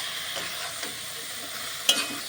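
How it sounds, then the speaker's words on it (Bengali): Banana flower being sautéed with grated coconut and prawns in a pan gives a steady, soft sizzle. A few light stirring scrapes sound in it, and one sharper clink comes near the end. No one speaks. "এরপর ভালো করে আমি কষিয়ে নেব এইভাবে"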